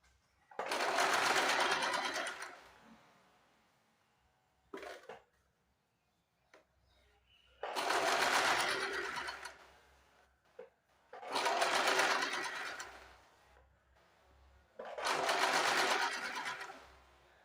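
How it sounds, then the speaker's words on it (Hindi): A sewing machine stitching a blouse sleeve, in four loud, close bursts of rapid whirring lasting about two seconds each with quiet gaps and soft handling noises between them. "यहाँ से रखना है इस तरह से, इस तरह से रखते जाना है और सिलाई लगा देनी है इस तरह से।"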